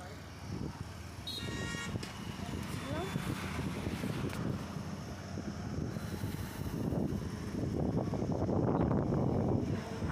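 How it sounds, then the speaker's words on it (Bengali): A motorbike rides through the Jaipur forest in Purulia, with a steady low engine rumble and buffeting wind noise on the microphone throughout, while people talk over it. "এই আমরা বাইক করে এবার বেরিয়ে পড়ছি।"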